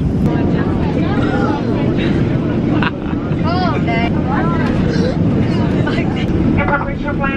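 Inside an airplane cabin descending for landing, a steady loud engine and air rumble fills the background while people talk and laugh over it.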